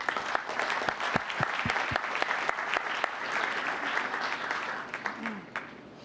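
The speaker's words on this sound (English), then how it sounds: "Please join me in a round of applause in presenting this." A room full of people at a town council meeting applauds, a dense patter of clapping with sharp individual claps standing out, gradually thinning toward the end.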